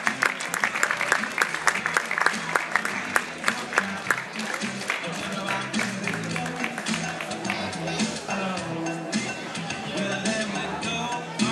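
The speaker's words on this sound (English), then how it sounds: "Applause for Christian." An audience at a WNBF Pro Cup bodybuilding prize giving in Zurich applauds with lively, uneven clapping that rises in bursts and then settles, while an announcer talks over it.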